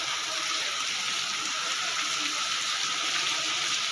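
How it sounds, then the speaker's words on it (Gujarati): Heavy rain falls in a continuous, even hiss, with a dense patter that stays steady throughout. "મજા આવે એવો વરસાદ આવવા મળ્યો પણ"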